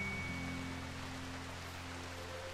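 Rain falls in the Rimworld colony-simulation game, a steady soft hiss of drops running evenly throughout beneath a low droning game hum, with no one talking.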